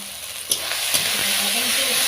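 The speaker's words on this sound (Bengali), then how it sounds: "এবার নেড়ে চেড়ে" Spices fry and sizzle in a pan for a Bengali jackfruit and shrimp curry, a steady close hiss with a couple of sharp clinks as they are stirred.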